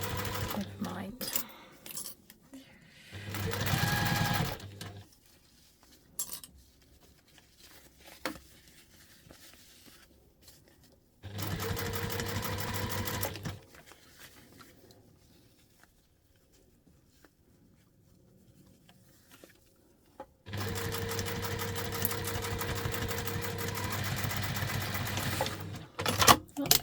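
Sewing machine stitching a wet bag, three separate bursts of rapid mechanical whirring and needle chatter, each lasting a few seconds, separated by quiet pauses with faint handling sounds.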